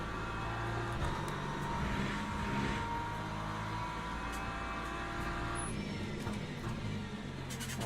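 An LMP2 race car in a Sebring racing video game drones past under a continuous engine hum, its tone rising and falling gently over a steady, moderately quiet background.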